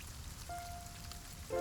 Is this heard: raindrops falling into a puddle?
yes